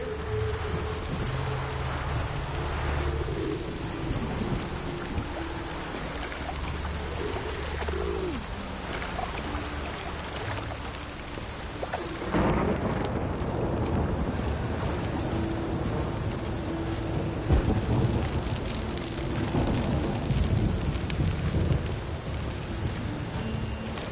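Steady rain patters continuously with soft bird coos in the background in the video game The Witcher 3: Wild Hunt, an even, immersive ambience with no talking.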